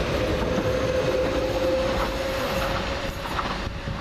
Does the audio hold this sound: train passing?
yes